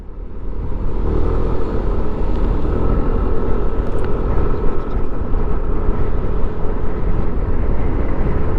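Airplanes around the new Terminal 2 at Clark airport in Pampanga, heard as a steady, loud broadband roar and rumble that holds constant throughout, like jet engines close by mixed with traffic noise.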